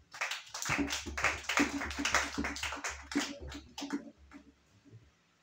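Church congregation clapping in rhythm to acclaim the Lord during a worship service, dense steady claps with some voices mixed in, fading out near the end.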